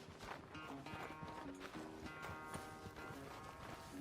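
Horse hooves clip-clopping at a steady walking rhythm in the Red Dead Redemption 2 video game, fairly faint, under soft background music and ambience.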